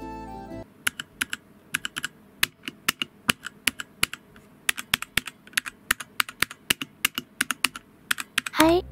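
Close-miked typing on a computer keyboard that has had sound-dampening treatment applied, with irregular, crisp key clicks at a brisk pace and a brief rustling noise at the start and end.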